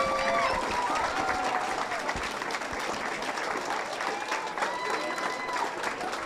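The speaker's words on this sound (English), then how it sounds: "Please give them another round of applause." Steady audience applause fills a Board of Education meeting during an award photo, a dense, continuous clatter of many hands that stays fairly even throughout with faint voices mixed in.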